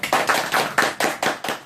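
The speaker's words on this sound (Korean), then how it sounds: "박수와 함성으로 시작하겠습니다" A Bible study class opens with steady, rhythmic group clapping: about eight evenly spaced, sharp claps close by, with no voices over them.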